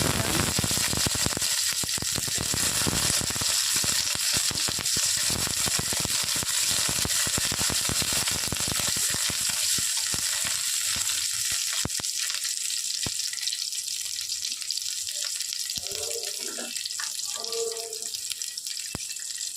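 Whole white cumin seeds spit in hot oil before onions go into the pan for chilli paneer. A loud, steady sizzle fills the first twelve seconds, then drops to a softer frying hiss with a few faint clinks.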